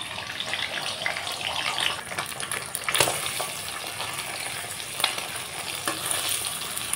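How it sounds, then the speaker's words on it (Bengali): Beaten, salted eggs fry in a wok with a little oil, making a loud, continuous sizzle with a few sharp clinks of a utensil against the pan. "একটা কড়াই বসিয়ে দিয়েছি অল্প একটু তেল। ফাটানো ডিমটা ঢেলে দিচ্ছি।"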